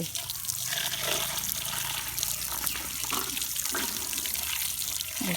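Tap water runs steadily in a loud, continuous close splash and gush, filling the whole moment with little variation.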